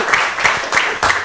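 A studio audience at a school quiz game show claps together, a short burst of dense applause with a few stronger waves of hand claps, fairly close and loud.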